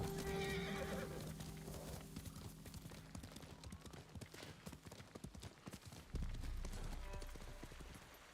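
Horse in the video game Ghost of Tsushima gives a loud whinny at the start, then hooves clip-clop in a quick steady rhythm, closer and heavier toward the end.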